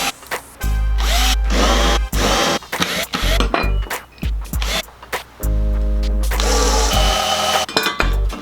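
Power drill boring extra holes through metal mounting brackets for a Hummer H3 install, loud and close, in repeated whining bursts of a second or two separated by short pauses.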